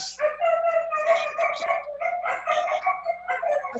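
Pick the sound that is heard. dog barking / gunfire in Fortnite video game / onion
dog barking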